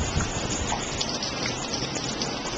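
Heavy rain pours down during a storm, a dense, loud, steady hiss of falling water and splashing drops that continues without pause and with no voices.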